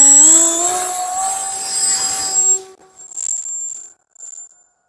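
An E-flite V900 radio-controlled jet airplane takes off at about half throttle, its high, rising whine loud at first, then quickly fading into the distance until only faint traces remain.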